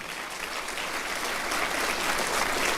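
Broad, sustained audience applause at an awards ceremony, continuous dense clapping that grows slightly louder toward the end with no voices on top.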